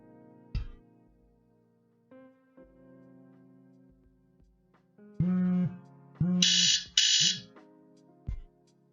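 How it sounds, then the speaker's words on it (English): An alarm set to wake someone goes off in a room, sounding as several loud, bright electronic bursts in quick succession, preceded by a few scattered knocks and faint background noise. "That was the alarm that was supposed to wake me up"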